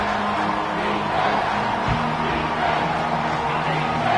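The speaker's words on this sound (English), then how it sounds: "The crowd getting behind this defense as they try to get a stop in the red zone." A football stadium crowd roars in support of the defense during a red-zone stand, a loud, continuous wash of crowd noise that fills the whole stretch.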